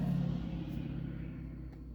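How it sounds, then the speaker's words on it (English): Steady low rumble of road traffic drifting in through a window, a continuous car-engine drone that stays even and moderately loud with no distinct passes. "You can hear the traffic outside my window."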